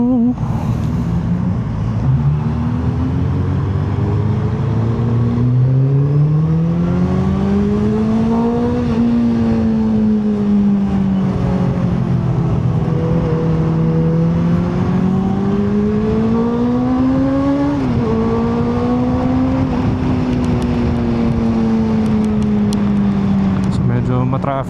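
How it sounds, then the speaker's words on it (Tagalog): Heavy Friday-night rush-hour traffic grinds along as car engines drone loud and close, rising and falling in pitch through slow acceleration and easing off, in a continuous steady rumble. "Traffic ngayon, no? Kasi Friday night, uwian, medyo rush hour."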